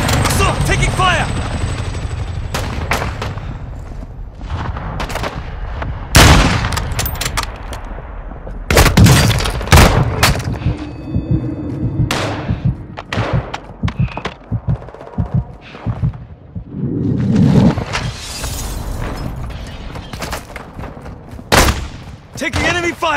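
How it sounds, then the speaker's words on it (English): Enemy gunfire in the shooter game Warzone 2, with repeated loud bursts and sharp shots over a constant rumble of combat and engine noise, and game voice callouts mixed in. "Taking enemy fire!"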